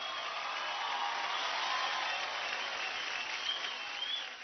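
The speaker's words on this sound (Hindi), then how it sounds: "जोरदार तालियां फॉर पीटी एंड पीटी" Loud, sustained studio audience applause for dancers on a televised dance competition show, a thick continuous wash of clapping that holds steady before easing slightly at the end.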